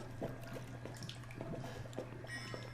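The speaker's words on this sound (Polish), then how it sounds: "to spuśćmy tą wodę" A toilet is flushed inside an old house in the horror game Resident Evil 7, giving soft, close trickling and dripping water, low in volume over a steady background hum.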